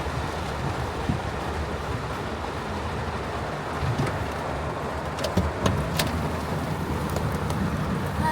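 Heavy rain suddenly pouring down at night, a steady dense roar of rainfall with cars and trucks swishing past on a wet road nearby.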